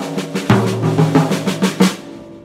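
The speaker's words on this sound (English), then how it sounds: "That basic exercise, once mastered, can then be orchestrated around the drum set for more interesting sounds," A short burst of hand-exercise sticking orchestrated around a drum set, with rapid drum strokes moving across different drums and pitches, played loud and close without speech.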